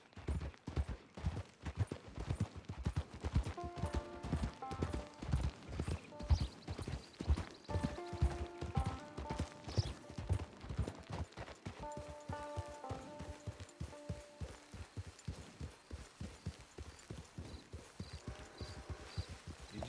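Horse hooves clip-clopping steadily in a video game, a continuous trotting rhythm of soft thuds with faint jingling and ambient game tones in the background, no speech.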